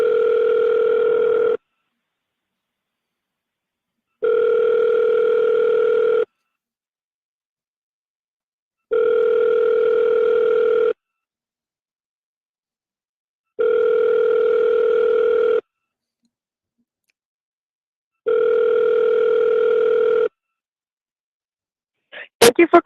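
Telephone ringback on an outbound call: five evenly spaced long electronic tones, each about two seconds with silent gaps between, loud and steady, ending in a brief click of noise.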